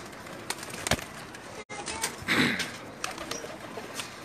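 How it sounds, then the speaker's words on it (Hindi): Rooftop pigeons coo softly and intermittently at a distance, with a few sharper calls and a brief rustle partway through, in a quiet setting with no talk. "इसके अलावा और भी कबूतर हैं, वो खुड्डे के अंदर हैं।"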